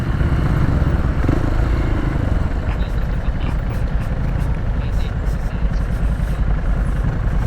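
A Honda XR/CRF motorcycle rides on an asphalt mountain road, its engine droning loud and steady throughout with wind rush and no break in the sound.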